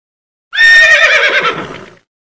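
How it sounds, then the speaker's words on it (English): A single loud, close horse neigh, a high shrill whinny lasting about a second and a half that wavers and fades out, with no other sound. "horse."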